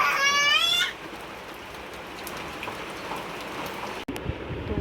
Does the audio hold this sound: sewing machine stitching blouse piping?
no